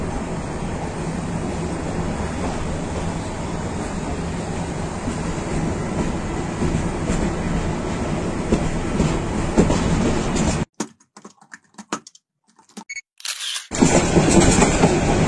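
The Dhaka Mail passenger train, running from Chittagong to Dhaka, roars steadily as heard from inside a non-AC cabin, with loud continuous rumble and wheel clatter, a brief drop into near silence, then the loud running noise returns.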